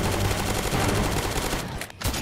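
An upgraded 60-round M16 rifle fires in a Roblox zombie game, a steady rapid stream of loud close shots with a brief gap near the end.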